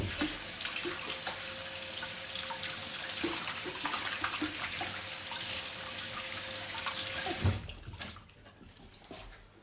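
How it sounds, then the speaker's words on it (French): Tap water runs steadily into a kitchen sink while hands are washed under it, close and continuous with small splashes, then the flow cuts off near the end leaving a quiet room. "Je vais me laver les mains."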